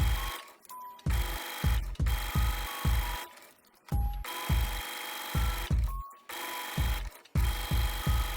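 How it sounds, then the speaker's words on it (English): A sewing machine stitches around a T-shirt hem with a walking foot, its motor whirring in steady bursts of rapid needle strokes, separated by brief pauses and handling noises. "Continue sewing all the way around the hem, trying to keep it as even as possible."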